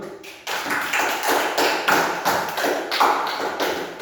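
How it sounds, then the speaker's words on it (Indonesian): A group in a school classroom claps in rhythmic unison, sharp slaps landing about twice a second, fairly close and loud, with no speech over them. "Sekarang dulu kasih aplaus dulu."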